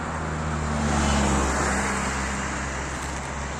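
A car moves slowly into an L-shaped parking space during a parking practice session, producing a steady, close low engine and road rumble with no talk and no clear acceleration.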